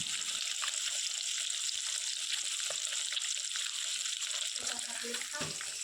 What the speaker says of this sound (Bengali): কড়াইয়ের মধ্যে মাছ দিয়ে দিলাম সব মাছ একসাথে দেব না ভেঙে যাবে তাই অল্প অল্প করে মাছগুলো ভালো করে ভেজে নিচ্ছি